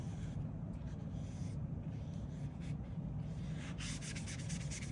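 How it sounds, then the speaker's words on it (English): A paintbrush sweeps across paper while painting clouds, producing soft, close, papery scraping strokes that continue steadily for a few seconds with no talking. "I love the sound of the brush on the paper."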